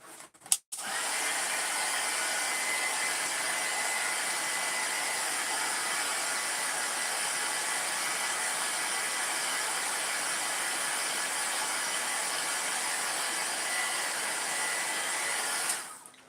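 A heat gun blasts to set craft embossing, a loud steady whooshing fan roar that starts abruptly after a brief click and runs unbroken for about fifteen seconds before cutting off.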